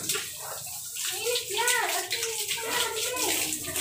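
Water runs from a tap into a bath in a steady, close splashing stream, while a child and an adult talk over it throughout.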